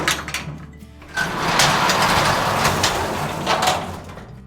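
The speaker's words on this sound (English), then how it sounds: "so let me start the car" A 1982 Mercedes 300D diesel engine is started: a short cranking burst gives way to the diesel catching and settling into a loud, steady clattering idle, heard close up.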